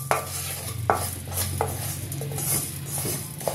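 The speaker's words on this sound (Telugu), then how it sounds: "ఒక 1 మినిట్ మనం ఇలా స్టిర్ చేసుకుంటూ డ్రై రోస్ట్ చేసుకుంటే చాలండి" A spoon stirs fenugreek and cumin seeds dry-roasting in a pan over a low flame, making repeated scraping strokes with light metallic clinks in a steady rhythm, close and alone.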